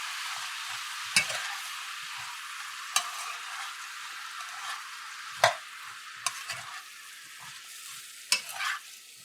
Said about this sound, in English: So you're gonna go ahead and give this a good mix.